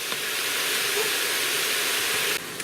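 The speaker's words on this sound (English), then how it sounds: "Okay, the mushrooms are sauteing up beautifully." Mushrooms sautéing in an Instant Pot for lemon mushroom orzo give a steady, close, broad hiss and sizzle that holds evenly, then drops off abruptly near the end.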